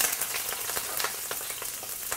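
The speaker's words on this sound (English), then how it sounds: "any liquid was in that pan is starting to sizzle, which tells us it's done" Liquid sizzling and spattering in a hot frying pan while cooking a kale sauce, a dense crackling hiss with frequent sharp pops, close and steady throughout.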